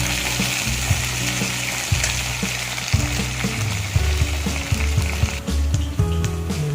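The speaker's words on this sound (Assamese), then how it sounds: "ফ্ৰাই কৰি ল'ব।" Potatoes frying in a pan of hot oil for a bamboo shoot fish curry, a steady close sizzle with occasional clinks and scrapes of stirring, no voices.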